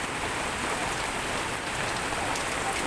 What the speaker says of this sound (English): I love the rain falling.